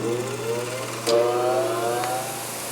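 A small barn-find engine fitted with a header pipe exhaust runs quietly at a steady idle, a low even hum with a faint whine and a couple of light clicks, close by.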